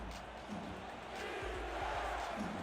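Football stadium crowd roaring at a quarterfinal game, a dense, sustained wash of cheering and yelling that swells slightly louder toward the end.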